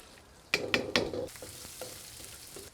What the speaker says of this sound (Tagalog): gigisa natin yung mga gulay-gulay natin. Chicken oil pa rin.